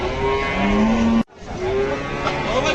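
At the Gabtoli cattle market in Dhaka, a cow nearby lets out two long, loud moos separated by a brief gap, with market noise underneath.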